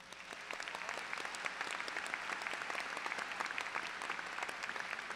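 Steady applause from a crowd at a 2018 undergraduate commencement ceremony, many hands clapping continuously at a moderate distance for several seconds without letting up.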